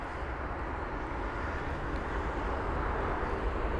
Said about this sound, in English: There's the Bulgaria A220 now. Off to Sofia that goes.